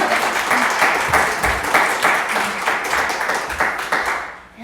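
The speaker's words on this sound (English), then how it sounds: "give her a round of" Sustained audience applause at a Sunday church service, dense and steady clapping from a full room that holds loud throughout before tapering off at the very end.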